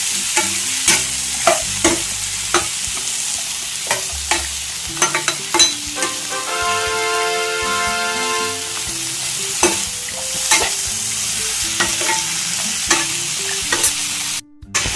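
Masala for an avarekalu, mushroom and potato kurma fries in a pan, a steady sizzle broken by repeated sharp scrapes and knocks of stirring, close and clear with no talk.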